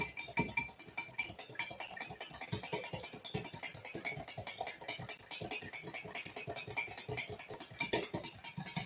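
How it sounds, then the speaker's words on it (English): A whisk beats Japanese soufflé pancake batter in a bowl, making a fast, steady run of light metallic clinks and ticks that carries on without a break, close and fairly loud, with no talking. "So let me just grab my whisk here, more trusty whisk, and just whisk those up"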